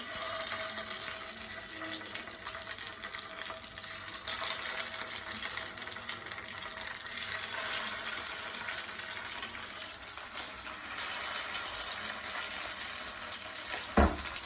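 Soybean cutlets dropped one by one into hot oil crackle in a constant, moderately quiet sizzling hiss, with a single sharp knock just before the end.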